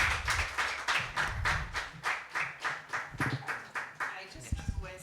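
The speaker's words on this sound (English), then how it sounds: "Can we have a huge round of applause?" A round of applause at a talk and conversation event on the ecological crisis, with distinct rhythmic claps from a small group, fairly close, rising and falling in bursts before fading out near the end.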